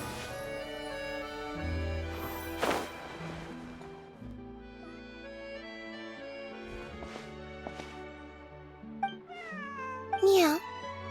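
A cat meows several times in Genshin Impact with musical, game-like tones underneath, ending in a sharper, higher yowl.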